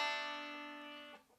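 A single plucked string note rings out clearly and decays smoothly, then a soft second pluck sounds near the end, like a 3-2 pull-off at the close of a backward roll on a banjo-style instrument.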